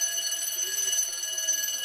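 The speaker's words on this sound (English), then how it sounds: "the fire alarm went off" A fire alarm rings continuously indoors in the early morning, a loud, steady electronic bell with a harsh, piercing tone that holds throughout.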